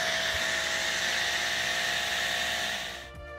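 A 2000 PSI electric pressure washer sprays shampoo through a foam lance, producing a steady, loud hissing rush that tapers off near the end.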